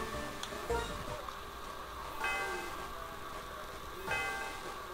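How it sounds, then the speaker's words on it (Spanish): A tower bell in the Pokémon Black game rings in three spaced strokes, each with a sharp attack and a long shimmering metallic tail, over a steady low musical background. "El sonido de la campana resuena por todo el lugar."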